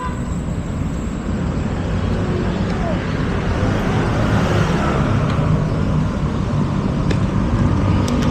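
Steady road traffic hums around a cyclist riding a bike near Upper Bicutan, a continuous broadband wash of passing cars and engines with no clear breaks.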